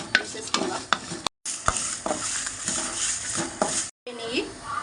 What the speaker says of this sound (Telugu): ఫ్రెండ్స్ నువ్వులు కూడా వేస్తున్నాను. 3 స్పూన్లు వేసాను. ఇది వేపేసుకుని తీసేసుకుందాం.